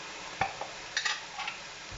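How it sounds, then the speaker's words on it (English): Coconut aminos or soy sauce goes into a hot pan of mushrooms and aubergine, giving a quiet sizzle broken by a few short stirring scrapes and clicks. "Now we're adding the liquids. 2 tablespoons of coconut aminos or soy sauce"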